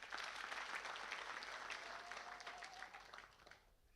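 A town hall audience in Moroto claps in a steady, fairly faint wash of applause that slowly tapers toward the end.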